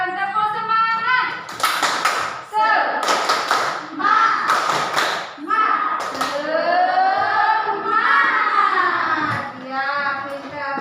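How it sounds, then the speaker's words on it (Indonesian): A class of students at a primary school lesson does a rhythmic spirit clap, with clusters of sharp claps in a steady pattern and children chanting loudly over them. "Sekarang tepuk semangat."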